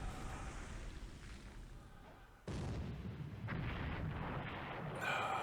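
Bombing effects from a WWII Pacific war strategy game set over Burma: a steady low rumble of distant blasts and booms that swells suddenly midway, then continues as a dense, sustained roar.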